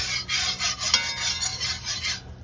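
A spoon scrapes rhythmically against the sides of a pan while stirring shrimp and sausage étouffée, producing close, loud rasping strokes in quick succession with no voices.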